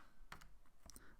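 Buttons pressed on a Casio Classwiz calculator, two quick pairs of soft plastic clicks close to the listener, faint and isolated in a quiet room.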